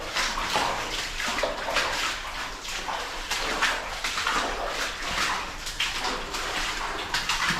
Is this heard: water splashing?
yes